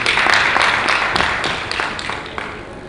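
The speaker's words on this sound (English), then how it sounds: "Once again, let's give her a round of applause, please." An audience at a National Diaspora Day session applauds, a dense, steady wash of many hands clapping that gradually fades.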